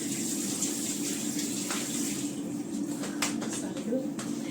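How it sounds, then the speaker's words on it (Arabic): Tap water runs steadily while hands are washed in a home kitchen, a continuous close hiss of flowing water throughout with a few brief splashes. "اغسل ايدي بس ثواني"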